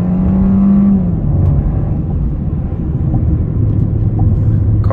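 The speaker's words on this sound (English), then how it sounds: "Car has a nice weighty sound to it." A 2021 Kia K5 LXS engine rumbles loudly and close, its pitch sliding as it revs and accelerates, with a steady heavy drone underneath.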